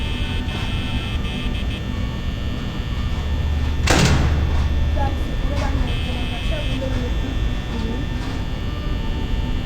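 A single loud metallic slam of a security door in the Five Nights at Freddy's game is heard over a steady electronic hum, while players talk throughout.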